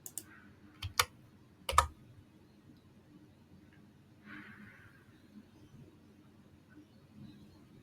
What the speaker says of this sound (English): let me go ahead and then type in F1.